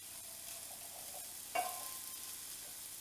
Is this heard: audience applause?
no